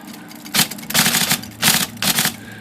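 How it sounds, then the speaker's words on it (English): An IBM Selectric typewriter with a stiff keyboard, a hand swept across its keys producing four dense bursts of rapid mechanical clattering in quick succession, close and loud. "I'm going to run my hand across the keyboard accordingly until I get to the other side"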